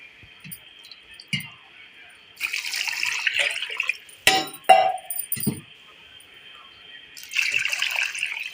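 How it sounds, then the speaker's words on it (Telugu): Water poured into a pot for chicken biryani, splashing in a few bursts between quieter gaps, with short clicks and knocks of the vessel nearby. "ఇప్పుడు వాటర్ పోసేసుకోండి."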